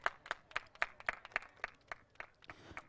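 Spectators at a local cricket tournament clap in a steady, even rhythm of about four claps per second. The sound is faint and distant, with no talk over it.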